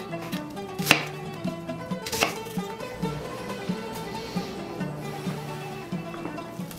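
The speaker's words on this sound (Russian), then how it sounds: "Нарежем лук полукольцами." A knife slices onion into half rings on a board, soft repeated cuts with two sharper knocks early on, steady and close beneath a low background hum.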